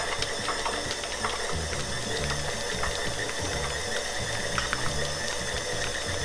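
Stand mixer kneading bread dough with butter at medium speed for a coconut pandan ube loaf, a continuous mechanical whir with rhythmic clicking and knocking from the dough hook, steady and moderately loud with no talking.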